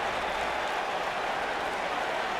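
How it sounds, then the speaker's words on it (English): A wrestling event crowd roars and applauds after a baseball bat strikes a wrestler's skull, a dense, sustained wash of cheering noise with no clear individual voices. "You can hear the reaction of the crowd there."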